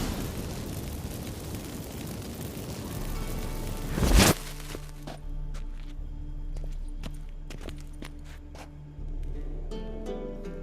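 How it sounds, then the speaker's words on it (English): Magic fireworks set off by activated incense in The Witcher 3 video game: a sharp burst erupts, followed by scattered crackling pops and sizzles over a low ambient hum. "Get ready for some magic fireworks. Once I activate the incense,"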